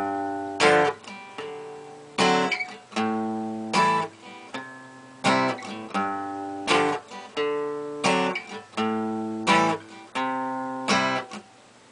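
Slowed-down acoustic guitar playing of a song's chord progression. Evenly spaced strums decay into sustained chords, close-miked and solo with no talking.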